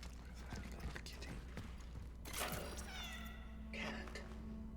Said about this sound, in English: Where's that little kitty?